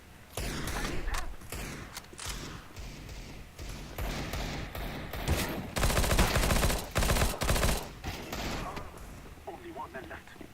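Video-game gunfire on a Counter-Strike style demolition map, repeated bursts of rifle shots and thuds, loud and close, with brief gaps and some speech mixed in.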